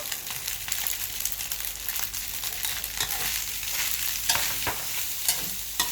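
Macaroni with minced pork sauce is stir-fried in a pan, producing a bright, steady sizzle punctuated by repeated scraping and tossing strokes of a spatula, close and fairly loud with no talking.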